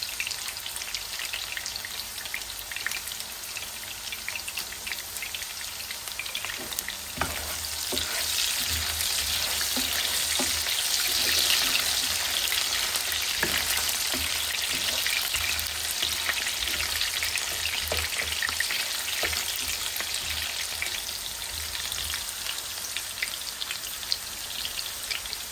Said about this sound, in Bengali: আলুগুলো ভাজা হয়ে গেছে, আলুগুলো তুলে ফেলি।